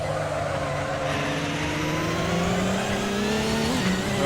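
An Audi R18 prototype race car in a sim racing game at the Nurburgring, its engine droning steadily with a gradually rising pitch as it accelerates, loud and close with no talk.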